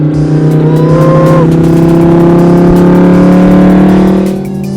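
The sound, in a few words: loud car engine accelerating on rally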